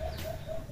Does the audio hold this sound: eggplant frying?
no